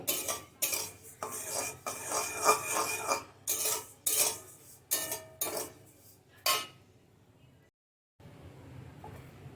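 A metal spoon stirs ajwain seeds dry-roasting in a pan on low heat, producing repeated rhythmic scraping strokes that are close and clear, then a short pause and a quieter stretch.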